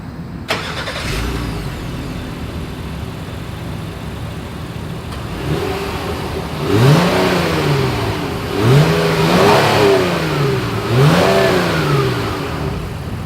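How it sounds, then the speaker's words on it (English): A 2020 Honda Pilot V6 SUV engine idles steadily, then revs hard three times in a row, the exhaust rising and falling with each throttle blip. "As always, here is that exhaust clip."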